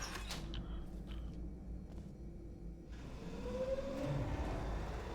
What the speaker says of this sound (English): So there's the pump spooling up.